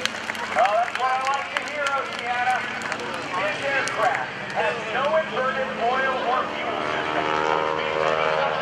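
An aerobatic airplane at the 2012 NAS Oceana airshow pulls through a low roundhouse maneuver, its engine a continuous drone beneath loud, steady commentary from an announcer.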